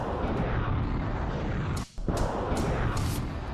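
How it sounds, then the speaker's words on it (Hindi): Russian artillery firing in Krasnoarmeysk, eastern Ukraine, heard as a dense, continuous roar of blasts and rumble filling the whole clip, with a brief dip near the middle and several sharper cracks toward the end. "तबाही का ये मंजर पूर्वी यूक्रेन के क्रास्नोआर्मेस्क की है। तोपखाने दनादन आग उगल"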